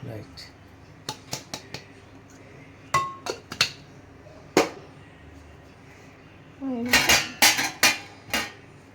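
A spoon mixes ground masala into chicken for green chicken dum biryani in a metal pot, giving sharp clinks and scraping taps in irregular bursts, busiest near the end.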